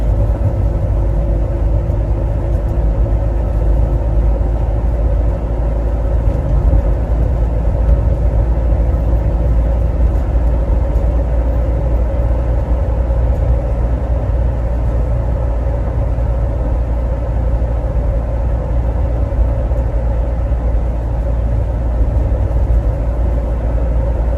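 A car engine hums steadily from inside the cabin while driving on a cloudy morning, a continuous low rumble with faint road noise and no speech throughout.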